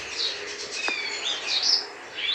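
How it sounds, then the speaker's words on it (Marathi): Bright, varied song of an oriental magpie robin with quick chirps and whistled phrases, fairly close and continuous, over a soft background hiss. "विदर्भात सर्वदूर आढळणारा असा हा ओरिएंटल मॅक्पिल रॉबिन"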